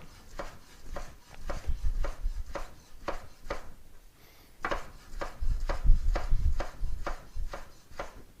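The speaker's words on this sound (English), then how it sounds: "I'm going to do like some nice slices of the tomato for this salad" A knife cuts a tomato into slices on a cutting board for a salad. The cuts come as a steady run of crisp taps and thuds, close and distinct, with a short pause partway through. No one talks over them.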